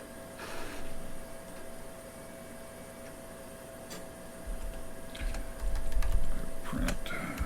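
Keys clatter on a vintage computer keyboard as someone types a short BASIC program, a faint, uneven run of clicks over a steady background hum that grows busier toward the end.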